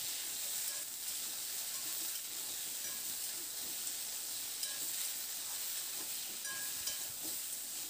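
Drumstick pieces and potato frying in a pan with salt and turmeric, a constant soft sizzle and hiss with faint scraping from occasional stirring throughout.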